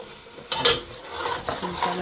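Chopped tomatoes go into prawn biryani masala frying in a pot, with a loud burst of sizzling and steady stirring scrapes that continue throughout.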